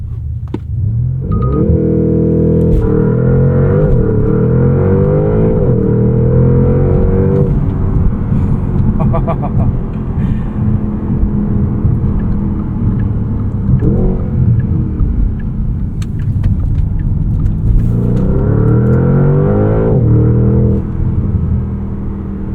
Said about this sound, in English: Launch control hits really hard in this GTS.